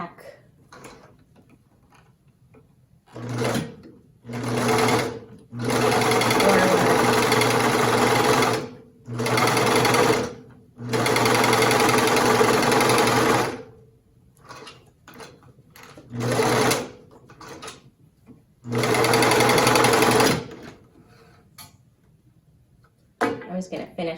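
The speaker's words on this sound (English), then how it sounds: "I've already threaded my machine with the bobbin and the needle and everything" A sewing machine stitches fabric for a cloth face mask in several loud, close bursts of rapid whirring, separated by short quiet pauses.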